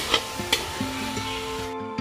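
Chicken pieces frying with green chillies and ginger in a home kitchen pan, with a steady sizzle under clanks of a stirring spatula that strike about four times.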